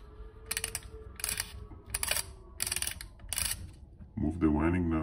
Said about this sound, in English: move the winding knob until it stops and cocks the shutter.